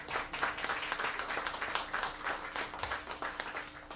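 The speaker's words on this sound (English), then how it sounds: "And yes, hand clap to that." An audience claps at a Piano Hour event in the New Orleans Jazz National Historical Park. Hand claps land in a quick, uneven pulse, fairly close and moderately loud, with no talking.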